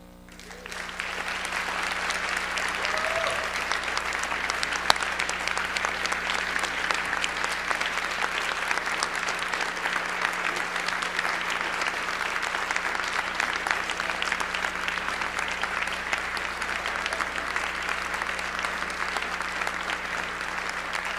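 An audience breaks into sustained, loud applause for journalist Amy Goodman at a keynote address, an even wash of clapping that holds steady for the full twenty seconds.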